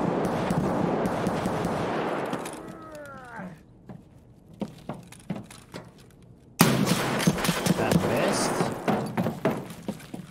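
Gunfire in Escape From Tarkov, sharp close shots and rapid bursts cracking in clusters, with a quieter stretch of spaced single shots before a loud barrage resumes, while someone talks over it.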